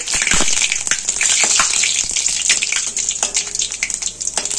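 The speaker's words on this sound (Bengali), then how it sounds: "তেলের মধ্যে ফোড়ন দিয়ে দেবো দুটো শুকনো লঙ্কা, সাদা জিরে, লং, এলাচ, দারচিনি, সাথে তেজপাতা। ফোড়নটাকে ভেজে নেব।" Whole spices (dried red chillies, cumin, cloves, cardamom, cinnamon and bay leaf) frying in hot oil for an egg curry tempering, a loud continuous hiss and crackle with sharp pops, steady throughout.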